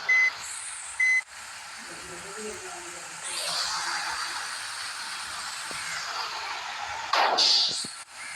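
Vehicles stuck in traffic back up with short electronic reversing beeps, two quick tones at the start and another near the end, over a steady rumble of truck engines and traffic.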